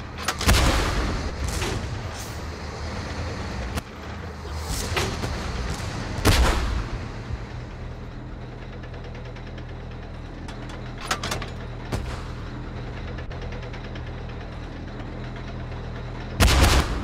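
Tank cannon fire and explosions in the Tank Force video game: loud sharp booms at the start, around six seconds and at the end, with scattered shots between over a steady low rumble.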